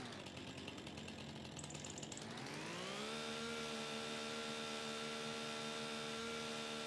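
A chainsaw idles roughly, then revs up and holds a loud, steady high-pitched whine at full throttle, close by, with no voices.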